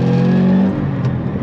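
Roush P-51A Mustang, a supercharged Ford Mustang muscle car, accelerating on throttle after a short-throw Roush shifter change: a loud, steady engine drone that drops in pitch and eases off partway through, heard alone up close.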